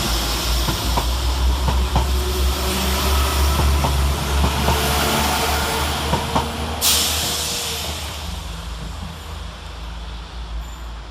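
Two coupled West Midlands Railway class 172 diesel units pulling out of Cradley Heath station, a low engine drone with faint clicks and a brief hiss, fading gradually as they move off.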